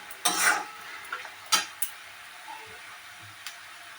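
Catla fish masala being sautéed and stirred in a pan with sugar, a few sharp scraping stirs standing out over a faint, steady sizzle; no voices.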